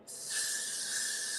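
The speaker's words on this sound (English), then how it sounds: "now I'm just going to spray" A single continuous aerosol spray hisses steadily at close range after a brief silent start, with no talking.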